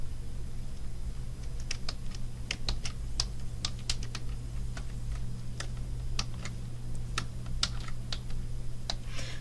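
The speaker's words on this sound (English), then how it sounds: "put in my username, and I will type it right, and then put in the temporary password" A username and password are typed on a computer keyboard as a steady run of crisp, separate key clicks over a constant low hum, with no talking.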